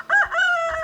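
A single rooster crows once, close and clear, a short rising-then-sustained call under a second long.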